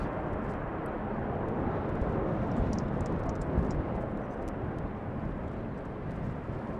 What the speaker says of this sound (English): Little private jet from the General Aviation platform just now taking off.